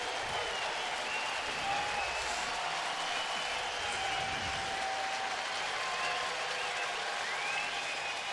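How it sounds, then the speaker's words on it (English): Baseball stadium crowd in Cleveland cheering for the pitcher during a bases-loaded jam, a dense steady roar of applause and noise that holds at a constant level throughout. "Crowd making some noise for Carmona"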